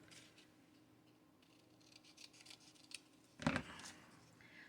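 A quick snip of scissors through paper in a quiet craft room, one short crisp cut standing out after a few faint ticks and rustles.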